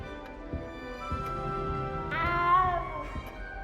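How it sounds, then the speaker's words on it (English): A cat meowing in the video game Hogwarts Legacy, one drawn-out meow standing out over a steady soft musical background. "You don't need to be frightened, little cat."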